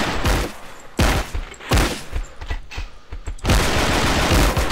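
Repeated shotgun blasts in a multiplayer video game duel, loud and close, with about five sharp booming shots spread over several seconds, some rolling into each other.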